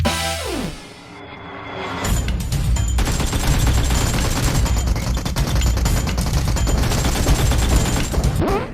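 Gunfire in PUBG Mobile starts after a short quieter lead-in, then rattles on as sustained, rapid automatic bursts. The shooting is loud and close, with a dense crackling texture all the way through.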